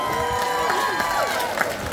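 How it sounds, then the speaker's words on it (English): Crowd cheering and shouting with applause at an outdoor chilli eating contest during a chilli festival, a steady loud wash of voices and clapping with whoops rising over it throughout. "Ladies and gentlemen, please give Doug a round of applause."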